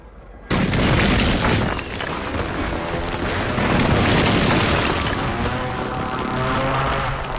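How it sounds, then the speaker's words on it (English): Loud, booming airstrike explosions in the Call of Duty Warzone 3 video game, a sudden heavy blast opening a sustained rumbling barrage of detonations that roar continuously and close by. "Hostile airstrike near your location."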